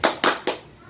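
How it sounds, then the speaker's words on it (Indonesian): A group in a school group-guidance session does a rapid double clap. Three sharp, near hand-clap bursts land in quick succession, with the third tailing off into quiet. Nobody speaks. "Tepuk ganda."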